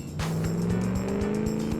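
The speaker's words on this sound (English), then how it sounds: "Immediate wheel spin." A seven-litre V8 car in BeamNG.drive spins its wheels from a standstill. The tires squeal in a rising whine over the steady engine roar. The sound is loud and continuous.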